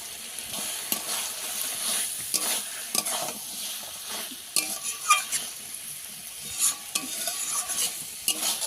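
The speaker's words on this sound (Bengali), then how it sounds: "সামান্য একটু জল দিয়ে ভালো করে কষিয়ে নেব।" Masala sautéing in a pan with a little water, chopped tomato going in, sizzling continuously under repeated spoon scrapes and stirring clatter, close by and moderately quiet, with no talking.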